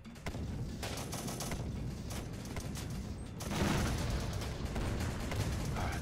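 Battle noise from the strategy game Syrian Warfare, where a tank fires amid a steady wash of distant gunfire and booming, getting louder partway through.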